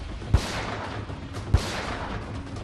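Gunshots during street violence in Delhi's Jahangirpuri area: two sharp, distant-sounding reports about a second apart, rising out of steady crowd and street noise.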